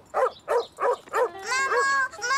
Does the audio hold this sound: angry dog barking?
yes